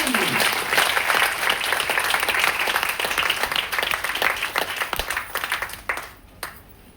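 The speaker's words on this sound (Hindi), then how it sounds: "जोरदार ताली हो जाना चाहिए" An audience bursts into loud, dense applause at a product talk in a hall, many hands clapping together for several seconds before fading out.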